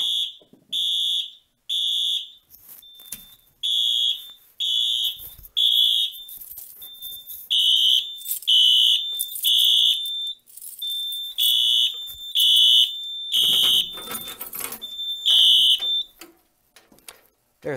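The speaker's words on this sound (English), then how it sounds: "when I flip the switch, panel will go into alarm, and the door holder will drop the screwdriver" A SIGA fire alarm panel goes into alarm, sounding a loud, steady train of repeated electronic alarm tones in regular pulses for most of the stretch, with a brief clatter near the end.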